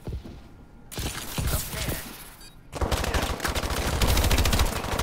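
Gunfire in a shooter game, with scattered single shots at first and then a loud, dense burst of rapid automatic fire, close and sustained over the final seconds.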